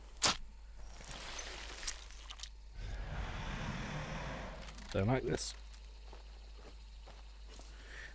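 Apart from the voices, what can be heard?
footsteps of nearby enemy in video game Hunt: Showdown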